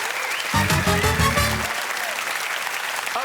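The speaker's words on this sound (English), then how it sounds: "Give them a round of applause, please." A studio audience at a comedy game show applauds, a broad steady wash of clapping heard alongside a brief burst of music early on.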